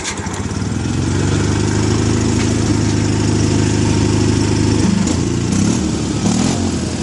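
A 1981 tractor engine started with little throttle and some choke, then running: a loud, steady close-up chugging idle that holds evenly, with a brief rise and change in tone near the end.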